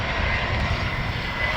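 An American Airlines Airbus A321 with CFM engines landing on runway 6, a loud steady broadband jet roar holding constant throughout with no voices.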